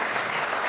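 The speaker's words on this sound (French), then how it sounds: "s'il vous plaît, des applaudissements" Applause from the audience at a political campaign meeting in Alès, a short steady burst of dense clapping with no pause.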